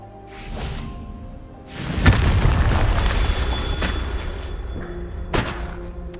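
A Confringo fire spell in Hogwarts Legacy bursts into a deep booming explosion that rolls into a long rumbling roar, with a second, sharper blast landing a few seconds later.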